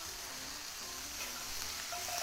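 Butter sizzles and fries in a pan as bread is toasted, a steady soft crackle at low level with no talking.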